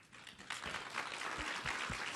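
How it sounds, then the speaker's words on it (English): Audience applause at the HHS Hispanic Health Summit, starting faintly and then swelling into a steady wash of clapping from a crowd, moderately distant, with no talking over it. "It's definitely worth an applause."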